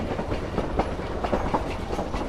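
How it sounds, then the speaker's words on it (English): Train travelling along rails at night, a steady rumbling roll with a rhythmic clickety-clack of wheels over track joints, continuous and fairly close, with no voices. "And the train is traveling along"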